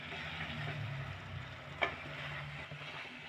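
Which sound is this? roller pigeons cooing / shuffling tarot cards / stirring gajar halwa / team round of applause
stirring gajar halwa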